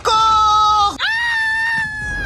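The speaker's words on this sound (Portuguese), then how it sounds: "ele fica ali gritando igual uma gazela" A man lets out a loud, sustained, high-pitched scream of terror in the horror film A Nightmare on Elm Street 2: Freddy's Revenge, breaking briefly before a second drawn-out shriek.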